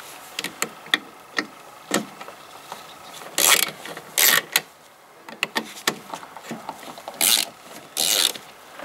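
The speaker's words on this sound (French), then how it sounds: "Donc ici il y aura deux écrous de 8 à dévisser." A socket ratchet with an 8 mm socket loosens two 8 mm nuts in the engine bay of a BMW E36. Close, crisp clicks come in uneven strokes with brief louder ratcheting runs and no talk.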